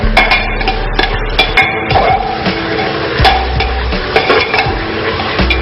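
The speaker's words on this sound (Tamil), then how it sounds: "நல்லா வதக்க." Chicken pieces for pulao stirred and sautéed in a metal pan, with repeated scraping and clinking of a spoon against the pan over a low sizzle, close and fairly loud, no talking.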